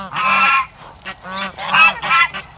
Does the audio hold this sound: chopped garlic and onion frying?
no